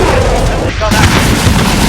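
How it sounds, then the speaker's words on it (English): Airstrike blasts in Call of Duty: Modern Warfare, loud booming explosions and gunfire rumbling continuously up close, with battlefield radio chatter and voices mixed in. "Allied precision airstrike in."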